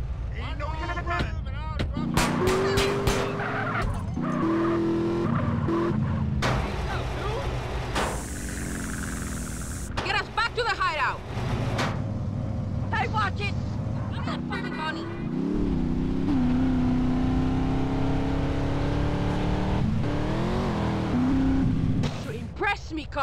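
A car in the video game GTA San Andreas drives and skids, its engine roaring steadily with bursts of tyre screech and crashes, mixed under game voices speaking loudly throughout.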